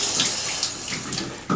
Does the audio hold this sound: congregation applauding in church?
no